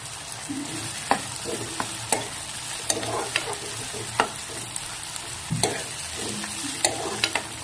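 Tomatoes and whole cashews fry in a pan for a paneer masala curry. A loud, continuous sizzle is broken by regular scrapes and taps of a spoon stirring, close by and with no talk.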